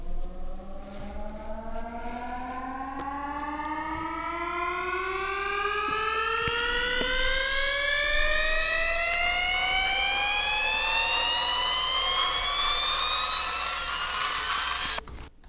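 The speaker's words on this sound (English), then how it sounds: "it's kind of being low passed early in the sound and then becoming more high passed as the sound progresses" A synth riser swept from low-pass toward high-pass filtering, several tones gliding steadily upward in pitch over about fifteen seconds, growing brighter and denser before stopping abruptly, heard alone.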